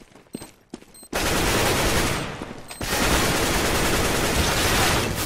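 Heavy gunfire in the CS:GO video game: after a few scattered sharp shots comes a loud, dense sustained burst, a brief dip, then another long continuous barrage, with no talking.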